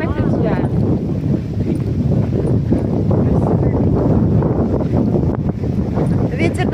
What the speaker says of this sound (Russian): Ветер нам не помешает,